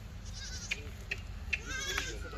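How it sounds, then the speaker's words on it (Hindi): Ganjam goat, an Indian long-horned breed, bleating briefly a few times over a steady low rumble of outdoor background noise, with a voice faintly present in the mix. "और ये बकरा"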